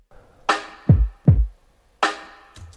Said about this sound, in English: So just the kick and the snare, they sound like.